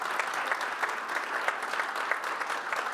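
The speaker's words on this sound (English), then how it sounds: "So give them a round of applause." An audience at a panel event on employment for returning persons gives a round of applause, an even, sustained patter of many hands clapping at moderate loudness for the whole stretch.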